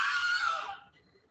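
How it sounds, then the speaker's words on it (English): A Wilhelm scream sound effect played from a phone, a single high, strained cry lasting under a second that fades off thin and tinny. "That's the Wilhelm scream."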